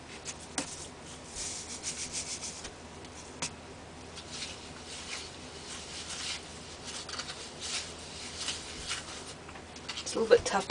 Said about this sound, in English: A little bit tough to stir when you add so much in at once.